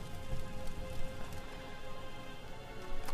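Rain pours in the Dragon's Triangle in the Tomb Raider video game, a dense patter of drops on surfaces with a few sharper splashes, steady and close, and no one speaking.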